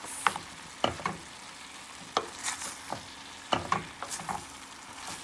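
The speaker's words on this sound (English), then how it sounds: "We're gonna add our thyme and pepper. Give, that a, give this a mix." Squash with thyme and pepper is stirred in a pot: a few separate scraping strokes and clinks, close and moderately loud, with quiet gaps between them.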